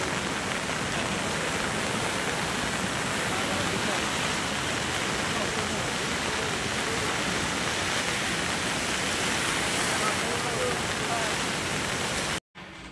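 Swollen streams overflow and rush after heavy rain in Nagarkurnool district, making a dense, steady roar of water that fills the scene for nearly the whole span before a brief cut near the end.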